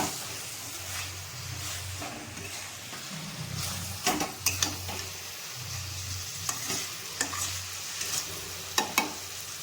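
Chicken with taro stir-frying in a pan, a steady sizzle broken by repeated scraping stirs and occasional sharp clinks of a utensil against the pan, with no talk.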